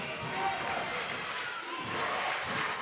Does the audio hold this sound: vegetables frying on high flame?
no